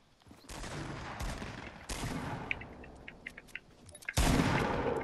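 Gunfire in the battle royale game Fortnite, loud bursts of rapid shots close by with a sharp blast near the end, separated by quieter stretches of scattered clicks and pops.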